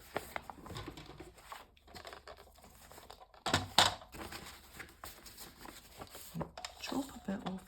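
Paper journal signatures, some bearing small illustrations, are cut with scattered crisp snips and rustling paper handling, a louder cut near the middle, while a person talks quietly throughout.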